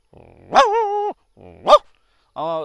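A man imitates a big dog barking, giving several deep, drawn-out woofs in separate bursts, loud and close with no other sound.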